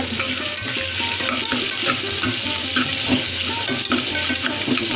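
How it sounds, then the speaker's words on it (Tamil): Carrots and beans sauté in a pan for a samba wheat rava upma, giving a close, continuous sizzle with the scrape and clatter of stirring mixed in. Nobody speaks. "கேரட்டு, பீன்ஸு சேர்த்துட்டு நல்லா வதக்கி விட்டுக்கோங்க"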